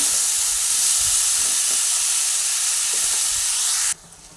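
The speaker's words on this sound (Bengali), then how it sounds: "নুন দেওয়ার পরে আবার ভালোভাবে একটু নাড়াচাড়া করে সব মশলা আর লাউ একসঙ্গে ভেজে নিচ্ছি।" Bottle gourd frying in a pan with spices and salt, giving a loud, steady hiss and sizzle with faint stirring knocks underneath, which cuts off abruptly near the end.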